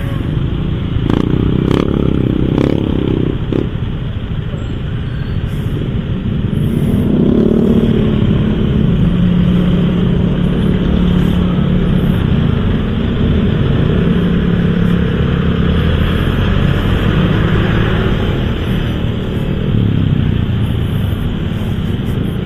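Busy street traffic near a bridge, with cars and motorcycles droning and passing continuously, engines rumbling steadily and loudly at close range, with occasional faint voices.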